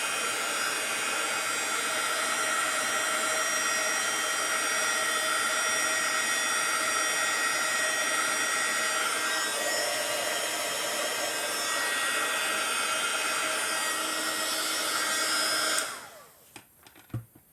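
Heat embossing gun blowing hot air over card for scrapbooking: a loud, steady fan-and-heater roar holds for about sixteen seconds close by, then cuts off, leaving a few small handling sounds.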